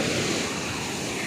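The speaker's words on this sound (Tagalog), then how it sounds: "Grabe alon" Strong ocean waves surge at a white sand beach in Bolinao, a loud, continuous broadband wash of surf with wind noise buffeting the microphone.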